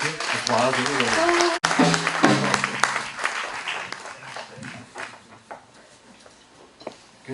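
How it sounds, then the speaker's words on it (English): Applause from a live radio show audience at a seaside venue, strongest at the start and thinning into scattered claps, with voices and other sounds mixed in. "Applause, everybody."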